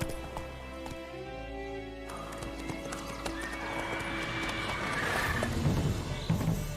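Horse hooves clip-clop in a quick gallop with a whinny in The Witcher 3 game, the hoofbeats building louder toward the end under a faint background voice.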